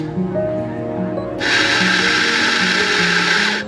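Espresso machine making coffee, a steady mechanical grinding buzz that starts abruptly partway through and runs continuously, loud and close, over faint background music.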